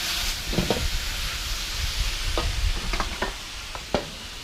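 Pork belly stir-fried with sweet peppers in a wok, a loud continuous sizzle with repeated scraping clatters of the spatula stirring against the pan, close and without voices.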